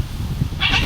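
A cat gives one short meow near the end, heard over a low background rumble with no talking.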